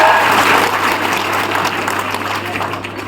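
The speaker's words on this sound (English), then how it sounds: "let's give ourselves a big round of applause." A graduation audience applauds, a dense roar of many hands clapping at once that holds steady and tapers slightly toward the end.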